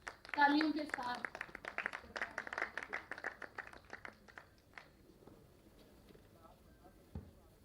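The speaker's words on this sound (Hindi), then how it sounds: "तालियों के साथ" Applause from an audience at a 104th birthday celebration event honoring poet Khumar Barabankvi, a burst of clapping that swells quickly then thins out into scattered claps while someone speaks.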